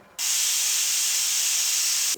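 A pressure cooker cooking chicken pulao suddenly bursts into a loud, steady steam hiss after a brief quiet moment, the bright rushing release continuing evenly to the end.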